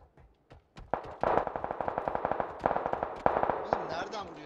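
Automatic gunfire in the video game PUBG: a few single shots, then rapid, evenly spaced bursts of loud, close rifle fire, with voices talking over it.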